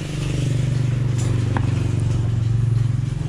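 A Yamaha STX 125 motorcycle fitted with a Mio Amore CDI idles close by, a steady low throbbing engine note with a fast regular pulse that continues without a break.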